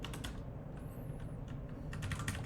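Rapid, uneven clatter of typing on a new computer keyboard, close and fairly steady throughout with bursts of keystrokes, under a low room hum and with no voices.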